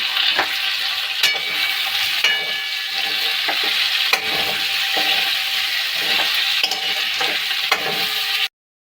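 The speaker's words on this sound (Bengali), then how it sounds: "একটু ঘি দিয়ে দিলাম। এবারে লঙ্কা আর ক্যাপসিকামটা দিয়ে দিলাম।" Green chillies and capsicum fry in ghee in a kadai, a steady loud sizzle with occasional sharp crackles and the scrape of stirring throughout, ending abruptly.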